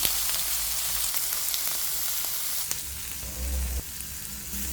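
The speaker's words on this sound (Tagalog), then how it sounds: "Ready na itong ating pinrito or pinan fry na pork curry" Pork curry sizzles and fries steadily in a hot pan, a continuous close crackle with no talking over it.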